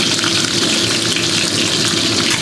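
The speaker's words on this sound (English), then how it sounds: "So just give this a quick stir fry here" Chopped garlic stir-frying in a pot for slow-cooker Chinese beef short ribs gives a steady, loud, dense sizzle that holds without a break for a couple of seconds.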